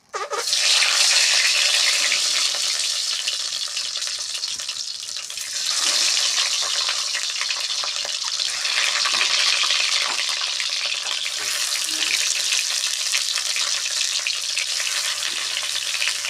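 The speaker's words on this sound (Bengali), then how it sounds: "এবারে তেলটা গরম হয়ে গেছে, ডিমগুলা আস্তে আস্তে ছাড়ি" Eggs slide into hot oil in a wok, a loud continuous hissing sizzle from the start that swells and stays dense and close throughout, with faint stirring scrapes.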